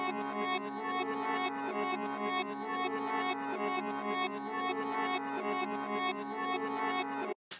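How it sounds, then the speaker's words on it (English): A reversed guitar loop plays dry without reverb, with sustained, swelling backward tones in a tight repeating pattern that is bright and close, ending abruptly. "I'm gonna play it for you without the reverb,"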